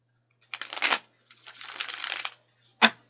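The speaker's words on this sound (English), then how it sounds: "Oh, and that was a really good shuffle." Tarot cards being shuffled by hand in two riffling bursts, about half a second and one second long, close and fairly quiet, then a single sharp snap of the deck near the end.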